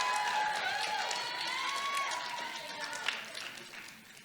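A crowd of students claps and cheers at a school assembly to welcome two presenters. The applause is steady and fairly loud, then thins out toward the end, with scattered voices mixed in.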